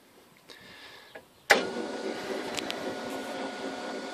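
A homebuilt electric vehicle's drive motor switches on with a sudden sharp click, then a steady mechanical hum and whir running on after it; faint small clicks come first.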